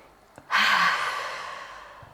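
A deep breath during a guided breathing exercise: one strong, airy inhale-exhale rush that swells suddenly and slowly fades, close and alone with no talk.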